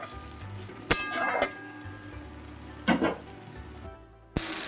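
Spice paste sautés on low heat in a pan, a soft, low sizzle with a few sharp clinks and scrapes of a utensil against the metal, close by, with no talk and a brief break near the end.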